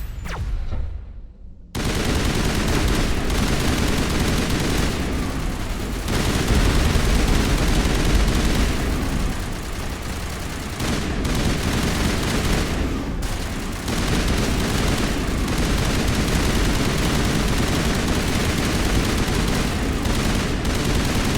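Sustained heavy gunfire from the video game Mass Effect, loud and continuous with dense overlapping shots and bursts running nearly the whole time after a brief quiet opening.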